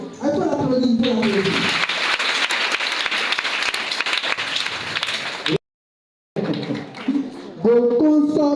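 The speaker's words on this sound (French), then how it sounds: "Oui, il faut l'applaudir." Applause for a student in a classroom: loud, dense clapping from a group fills most of the stretch, breaks off briefly into silence, then resumes with voices heard over and around it.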